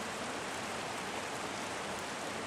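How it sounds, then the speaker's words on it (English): Light rain beginning to fall at an abandoned Girl Scout camp in Arroyo Seco, a quiet, steady broadband hiss with no voices. "It's starting to rain."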